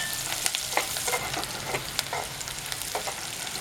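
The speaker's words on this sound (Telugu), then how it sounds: "ఇలా బాగా వేగిపోయాయి కదండి" Eggs fry in a pan for an egg and prawn curry, a close, steady sizzle broken by the scrape and clatter of a spatula stirring.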